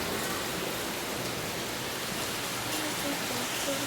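Heavy hail and rain pour down steadily with water rushing and flowing nearby, a dense, even wash of noise that stays constant throughout, with no voices.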